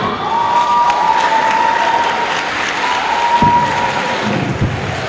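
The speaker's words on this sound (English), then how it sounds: "Please, a round of applause for him." A crowd applauds the chief judge at a faculty debate event, with steady, loud clapping mixed with some cheering, a high whistle-like tone early on and a couple of dull thumps.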